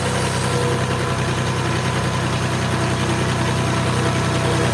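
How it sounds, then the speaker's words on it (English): Tractor engine running steadily while rolling down a slope, a continuous loud low rumble with a rough knocking texture and no change in pitch throughout. "I'm using one hand to drive the tractor and I'm going down a slope."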